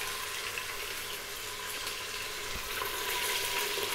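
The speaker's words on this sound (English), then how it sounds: "We're now gonna drop the meat in." Pieces of mutton with a few bones dropped into hot oil, giving a steady, faint hiss and crackle of frying that holds evenly throughout with no talking.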